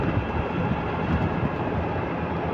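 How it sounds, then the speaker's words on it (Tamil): Strong gusting wind roaring steadily over a motor scooter ride from Trincomalee to Monaragala in rainy, changing weather, a dense broadband rush with low rumble that stays loud and constant throughout, with no talking. "காற்றுங்க, காற்று நிற்க மாட்டேங்குது"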